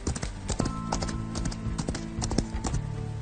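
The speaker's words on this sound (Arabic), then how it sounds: "صوت الحصان وهو بيجري" Galloping horse hooves from a sound effects library, a dense rhythmic clip-clop of repeated hoof strikes, close and fairly loud throughout with no voices.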